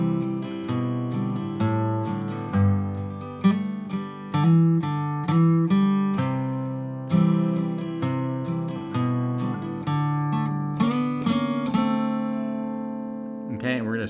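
Acoustic guitar playing chromatic double stops on strings two and three, a clear sequence of plucked two-note pairs stepping downward, close and moderately quiet, ending on a ringing chord.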